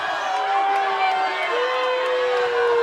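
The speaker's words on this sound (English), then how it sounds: "you can tell the crowd's not too happy about this" A football crowd at a St. Bonaventure vs Oxnard game reacts with displeasure to another holding penalty, a steady, loud roar of many voices that fills the stands throughout.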